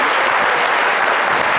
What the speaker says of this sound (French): Et est-ce qu'on peut applaudir encore une fois?